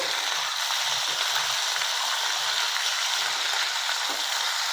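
Cut vegetables, including beans, cauliflower and potatoes, fry lightly in a pan, giving a steady, close, even hiss of oil without voices.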